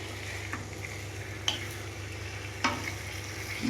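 Potatoes tipped into a hot pan of spiced oil for an aloo fulkopi dish, a steady soft sizzle with a few sharp clinks of a spoon against the pan.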